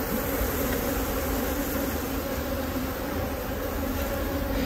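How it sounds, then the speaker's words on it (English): Bees swarm and buzz around a beehive that has been split, a queenless colony stirred up and feisty, giving a steady, dense, loud drone that fills the whole stretch without pause. "these are normally very, very pleasant bees"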